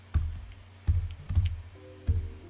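Keys on a computer keyboard are struck by hand in a few quiet, separate taps with pauses between them, close by in a calm room.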